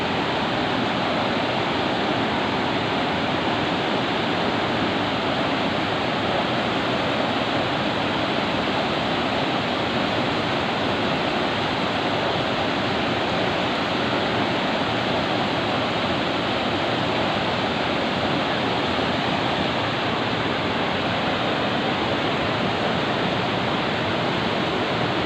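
The Riseh river at Sawang in North Aceh rushes past in a dense, steady roar of flowing water, loud and unbroken for the whole stretch with no voices.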